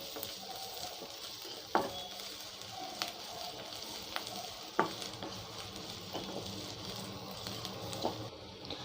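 Crushed garlic frying with onions in a pan for a greens stir-fry gives a soft, steady sizzle close by, broken by a few sharp clacks of a spoon stirring, with no talking.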